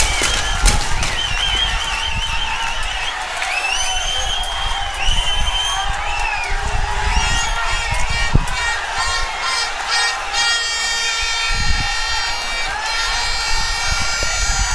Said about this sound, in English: Very indisciplined crowd